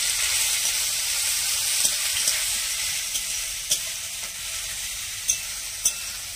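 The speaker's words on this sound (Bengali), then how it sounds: "কড়াতে সরষের তেল দিয়ে দিচ্ছি। ফোড়নে দিয়ে দেবো শুকনো লঙ্কা, তেজপাতা, গোটা জিরা। এবারে দিয়ে দেবো বেটে রাখা পেঁয়াজ।" Ground onion paste sizzles steadily in hot mustard oil, tempered with dried chillies, bay leaf and whole cumin, with occasional sharp spatula scrapes and stirs against the pan, close and continuous with no talk.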